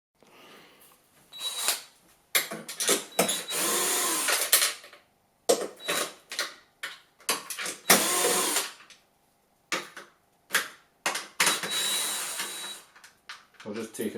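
Small nuts and bolts being removed from a Kia Niro PHEV battery pack during disassembly, heard as a run of short bursts of loosening and tool noise with brief pauses between them, close up.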